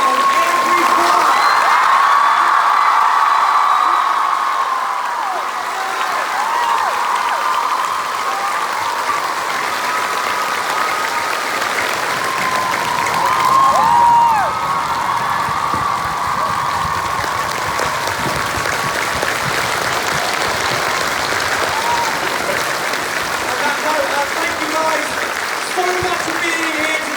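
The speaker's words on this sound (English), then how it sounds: "can we give an almighty round of applause so loud every time?" A large TwitchCon panel audience gives a long, loud round of applause with cheering, a sustained crowd roar filling the hall with voices through it.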